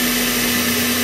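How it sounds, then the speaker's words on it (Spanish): Electric blender whirring steadily as it blends orange juice with aloe vera gel, a loud, even motor drone with a strong steady hum throughout the brief burst. "Preparamos jugo de naranja, lo vertimos en una licuadora y añadimos el gel de aloe vera."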